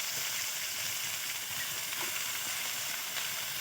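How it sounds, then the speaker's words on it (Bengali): Flat beans stirred and fried in oil for a poppy-seed dish give a steady, faint, close sizzle with soft crackle throughout, no talk over it. "তেলের উপরে নাড়বো চাড়বো, নেড়ে চেড়ে একটু ভেজে নেব"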